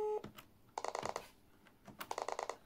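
A French Minitel 5 terminal's built-in modem pulse-dials a number: a brief tone, then two fast trains of clicking pulses separated by a pause, close and fairly quiet with no talk.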